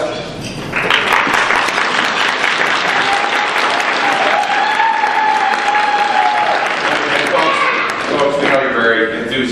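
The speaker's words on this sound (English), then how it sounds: "Would you please hold your applause till the end for each candidate?" Sustained, loud audience applause fills a debate hall after a candidate's opening speech, dense clapping continuing steadily with crowd voices and a few whoops mixed in throughout.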